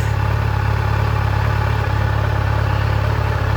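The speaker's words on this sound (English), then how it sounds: "I've been letting the bike run. I've revved it up a little bit, try to get it warmed up quicker." A 2020 Kawasaki Z900 motorcycle engine idles steadily while warming up, with a low, even rumble, close and continuous throughout, no voices.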